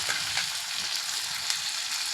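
Mixed vegetables fry in a pan after a spoonful of ginger paste is added, giving a steady, close, even sizzle that hisses on without pause and with no talking.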